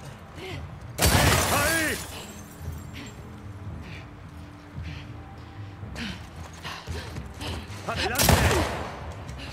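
Gunfire from The Last of Us Part II, with two loud bursts of shots near the start and end plus scattered smaller reports between, heard under an ongoing game soundscape.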